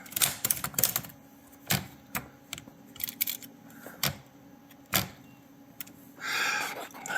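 A Royal KMM manual typewriter clatters with irregular, close key strikes and type bar snaps, ending in a short rasping carriage movement; no voices.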